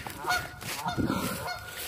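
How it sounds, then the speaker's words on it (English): A goose honks repeatedly outdoors, several nasal calls in quick succession at moderate distance, fairly loud and clear with no talk. "Oh, another goose! Who's honking at me?"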